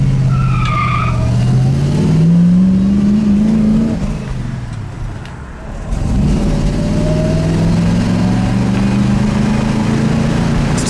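A 1966 Ford Mustang coupe, just flooded, revs hard with rising and falling engine tones and tire squeal, dipping briefly midway before the loud engine drone returns.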